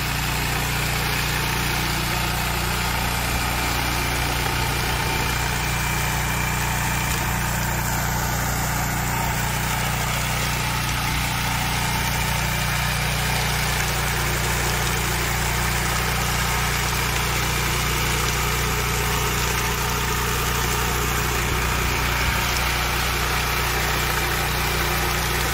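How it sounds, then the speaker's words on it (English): An MBW 36-inch high-torque power trowel finishing a concrete floor, with a loud, steady engine drone running unbroken throughout at close range. "It's just a really nice running power trowel."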